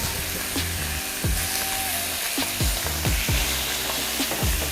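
Sticky mustard chicken sizzling on an outdoor cooker as the pieces are flipped: a constant crackling sizzle punctuated by several quick scraping knocks from the turning.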